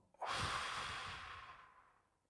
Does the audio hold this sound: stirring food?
no